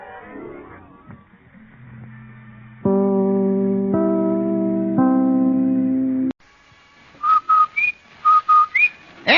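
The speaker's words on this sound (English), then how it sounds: "That's the Rinso White whistle." Rinso White advertising whistle from an old-time radio broadcast, two-note whistled calls repeated several times near the end, after a sustained chime-like tone; no talking.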